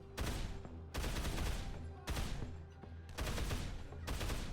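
Assault rifle fire in the modded video game Dead Island, four long rapid bursts of automatic shots, loud and close, separated by brief pauses.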